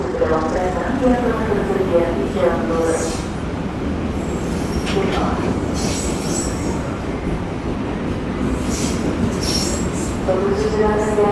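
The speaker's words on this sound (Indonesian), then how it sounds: "kereta api Mutiara Timur udah berangkat dari stasiun Surabaya Gubeng" A Mutiara Timur passenger train departing Surabaya Gubeng station rumbles along with steady wheel noise and occasional high metallic squeals, loud and continuous throughout.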